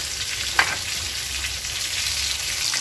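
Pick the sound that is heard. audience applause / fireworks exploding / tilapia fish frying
tilapia fish frying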